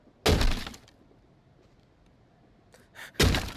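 Two loud, sharp smashing impacts from a fire axe striking in The Walking Dead: Saints & Sinners VR game, each a heavy crunching blow with a brief breaking, glassy edge, spaced about three seconds apart with quiet between.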